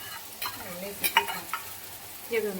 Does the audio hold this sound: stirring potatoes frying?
yes